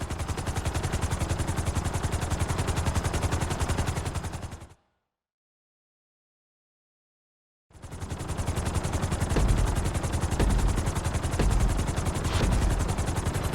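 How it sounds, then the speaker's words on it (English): A helicopter in GTA V flight school gives off a loud, steady rotor roar that cuts to total silence for about three seconds, then resumes at full strength. "we're gonna put you in a helicopter for this lesson"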